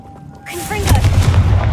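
A Confringo fire spell in Hogwarts Legacy goes off as a single sudden fiery blast that swells in after a quiet start and sustains a crackling, booming burst to the end.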